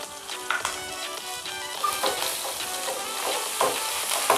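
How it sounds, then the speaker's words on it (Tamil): Chopped green chili dropped into a hot frying pan for gobi Manchurian, giving a steady close sizzle and frying crackle with a few stirring scrapes and small pops, no voices. "ஒரு பச்சை மிளகாய் கட் பண்ணி வச்சுருக்கேன், அதை போட்டுக்கலாம்."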